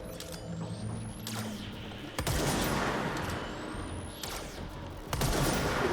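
In the video game Control, a sniper rifle whines as it charges and then fires, with sharp close shots and mechanical clacks repeating in two rounds over a busy background.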